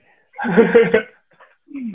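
A person coughs once, up close, in a short rough burst during a casual conversation, followed by faint quiet movement.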